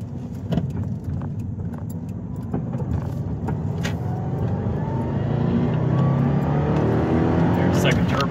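A JDM Subaru twin-turbo car accelerating hard, its engine drone rising steadily in pitch and loudness from inside the cabin, with someone talking over it.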